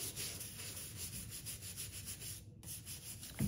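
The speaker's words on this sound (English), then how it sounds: "So you don't want to soak the shoe. Just want to scrub it a bit clean." A brush scrubs hiking boots with foaming shoe cleaner in circular motions, making soft, rhythmic rubbing strokes close to the microphone. The strokes are steady and repeated, with a brief pause near the end.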